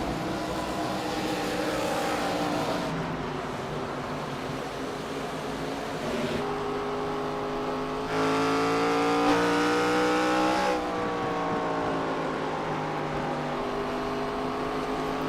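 Race cars lap a short oval at Bristol, their engines droning loudly and continuously with rising and falling pitch as they chase through the corners, the roar swelling briefly louder midway through.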